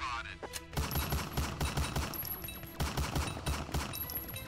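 Turret in Roblox BedWars firing rapid bursts, a dense rattle of sharp repeated shots with brief pauses between volleys, loud and close, with a voice speaking over the firing.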